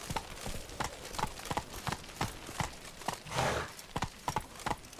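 Roach the horse in the Witcher 3 video game, hooves clip-clopping in a steady walking rhythm, close and clear, with a brief whinny-like burst midway and no talk.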